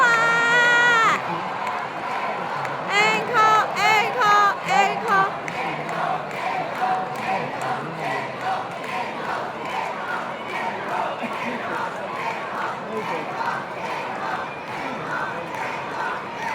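An audience at a charity concert in Wan Chai cheers, shouts and calls out in a loud, sustained roar that swells early on and then holds steady. A voice rings out briefly at the start.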